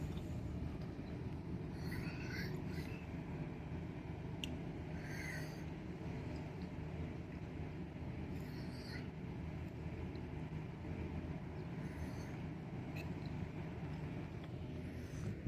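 Susquehanna locomotive #3018 works grain cars in a rail yard in Binghamton, NY, with a low steady engine rumble heard from a distance, faint metallic clanks and squeals at intervals.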